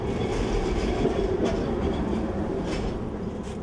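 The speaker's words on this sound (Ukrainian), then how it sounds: "Водійка 9-го трамваю Марія сьогодні першою виїжджала на маршрут і вже протестувала оновлені колії." Route 9 tram in Lviv running over newly renewed tracks on rebuilt Zamarstynivska Street, a continuous close rolling rumble of wheels on rail with rhythmic clickety-clack joints and light squeals, no voices.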